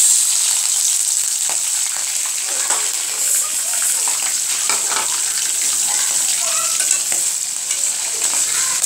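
Prawns drop into hot oil and fry with a loud, continuous bright sizzle that stays close and steady throughout, with faint stirring movements beneath.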